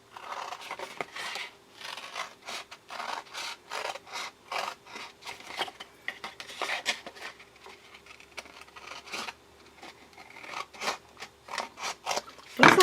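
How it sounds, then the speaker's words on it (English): Large scissors snip through paper in a steady run of close, crisp cuts with short pauses between strokes, and no voices. "went and got my scissors, my large scissors"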